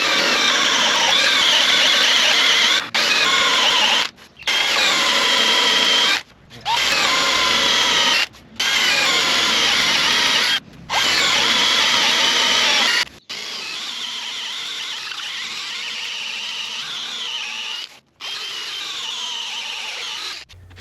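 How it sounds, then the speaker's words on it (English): A power drill with a Forstner bit bores 7-inch-deep holes into wood in repeated loud, close bursts with short pauses, then settles into a longer, steadier run near the end. "I started drilling them with Forstner bit"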